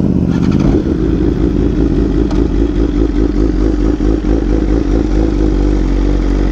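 A BMW M1000RR motorcycle with a full titanium SC exhaust, its engine running loud and close with a steady throbbing drone and clattering mechanical texture, no talking.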